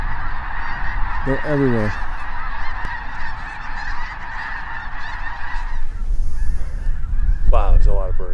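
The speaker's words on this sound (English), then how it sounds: "There are so many geese here." A large flock of snow geese honks loudly and continuously nearby, with someone speaking briefly over the din.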